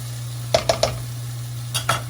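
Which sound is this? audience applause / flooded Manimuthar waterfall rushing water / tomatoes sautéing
tomatoes sautéing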